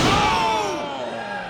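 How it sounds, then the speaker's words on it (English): A wrestler is slammed hard onto the mat at a New South Wrestling live event, a heavy booming impact right at the start that rings and decays under continuous commentary. "All that force just driven down onto the mat."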